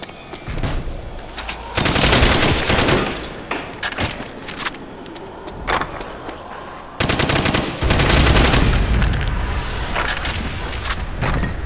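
Automatic G36C rifle fire in a Call of Duty: World at War modern weapons mod, loud sustained bursts with short pauses between volleys, close up and without talk.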